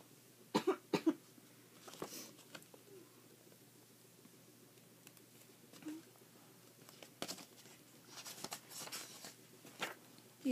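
Several quiet coughs come in short bursts, a pair early on and more scattered later, faint against a soft background.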